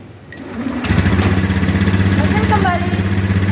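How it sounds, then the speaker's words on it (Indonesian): A Honda Beat FI scooter engine cranks and fires after a short starter whir, then settles into a steady, close idle with a low, even putter that holds to the end. "Mesin kita hidupkan."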